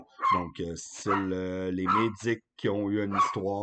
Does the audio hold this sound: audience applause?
no